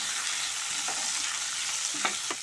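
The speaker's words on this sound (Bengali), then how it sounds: "একটু নাড়বো। একটু পেঁয়াজ দিয়ে দিলাম" Onions fried in a pan for a vegetable curry are stirred with a spoon, giving a steady loud sizzle with a few scraping strokes near the end and no talk.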